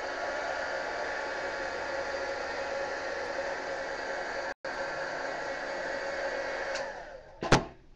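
A heat tool blows steadily over an art journal page, a loud, even whooshing hum that cuts out briefly midway and then winds down at the end with a click.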